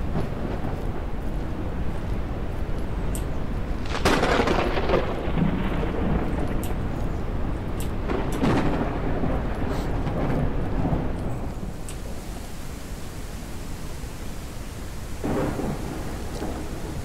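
Heavy rain hisses continuously in a Jaws of Extinction game storm, broken by several close thunder claps and rolling rumbles in the first twelve seconds, then a quieter stretch with one more distant boom near the end.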